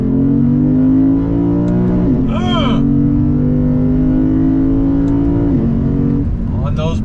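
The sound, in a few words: V8 sports sedan accelerating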